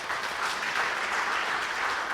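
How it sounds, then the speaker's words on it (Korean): A church congregation at a Korean Presbyterian Sunday service claps together, a full, even burst of many hands sustained without pause or voices. "우리 같이 박수로"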